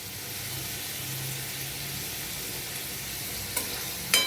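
Shrimp frying in a pan for shrimp khichuri, a steady close hiss of sizzling oil with a couple of sharp clinks of the stirring utensil near the end.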